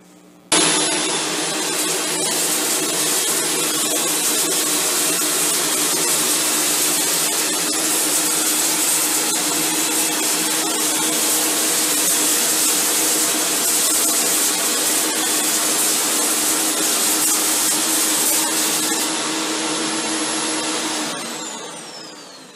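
A Shark Stratos vacuum cleaner runs on a tile floor, a loud, steady motor whine and airflow roar that starts abruptly and holds for about twenty seconds before switching off.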